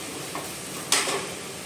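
Potatoes and mixed vegetables cooking in a pan, a soft steady sizzle broken by one sharp scrape of a spoon, no talk.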